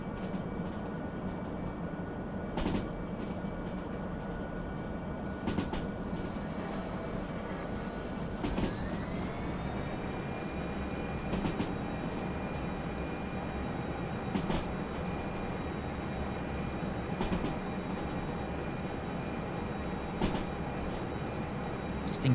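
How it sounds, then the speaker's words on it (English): Freight train wheels in the Derail Valley video game, a 2000-tonne DE6-hauled consist, give a thin sustained flange squeal that bends upward in pitch over a steady rolling rumble with regular clicks from the rails. "I can hear the flange squeal already"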